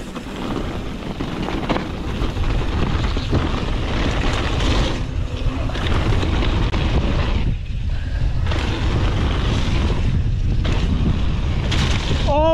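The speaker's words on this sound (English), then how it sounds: "It's windy, isn't it?" Steady, roaring wind at a bike park buffets the microphone throughout, a dense broadband rumble with occasional lulls.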